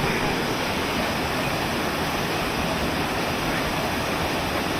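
Saphan Hin waterfall pours in a steady, dense broadband roar, close and loud, with no change across the whole stretch.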